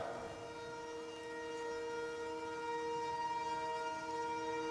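A passing train sounds a steady, sustained horn tone that holds for several seconds, faint and somewhat distant, with no talking.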